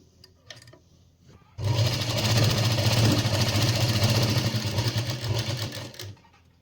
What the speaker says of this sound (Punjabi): ਇਦਾਂ ਆਪਾਂ ਅੱਧਾ ਇੰਚ ਕੱਪੜਾ ਰੱਖਦੇ ਹੋਏ ਸਲਾਈ ਲਗਾਵਾਂਗੇ